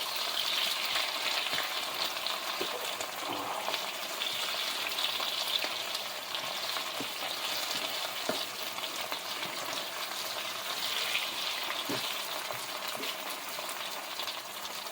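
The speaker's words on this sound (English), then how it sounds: "I'm going to stir these up and mix this all through." Food frying in a pan on a stovetop as it is stirred and mixed through, a steady close sizzle with scattered soft scrapes and clicks of the utensil, continuous throughout and no talking.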